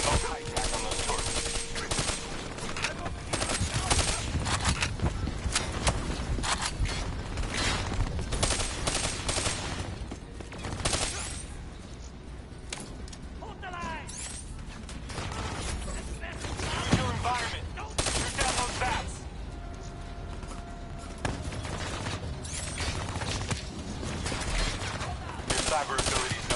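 Rapid bursts of automatic turret gunfire rattle through a video game firefight, dense volleys with brief pauses, while a narrator talks over the action.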